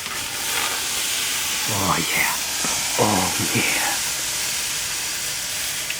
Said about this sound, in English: We will get steam now